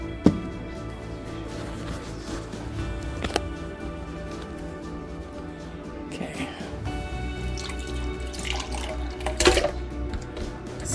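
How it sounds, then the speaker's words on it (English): Whole canned tomatoes with their juices pour from the can into a Vitamix blender container, giving wet glugs, drips and splashes close by over a low background hum, with a louder splash near the end. "now it says to do 28 ounces of whole tomatoes with their juices into the VITAMIX"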